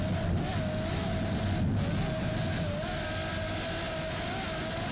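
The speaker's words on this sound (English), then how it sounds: "Reverie powered by two 920 horsepower Lamborghini engines" The racing powerboat Reverie, driven by two 920-horsepower Lamborghini engines, roars past with a loud, sustained engine drone and a wavering high whine, steady and close over a wash of water noise.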